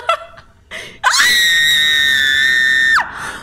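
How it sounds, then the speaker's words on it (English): A woman lets out one loud, sustained high-pitched scream lasting about two seconds when a shock collar on her right thigh zaps her, preceded by brief vocal sounds and followed by a short breathy exhale. "You can tell because I'm usually screaming."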